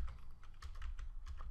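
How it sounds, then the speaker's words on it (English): Typing on a computer keyboard while entering text, a quick run of soft key clicks over a steady low hum, close and moderately loud with no talk. "what we're going to type here is"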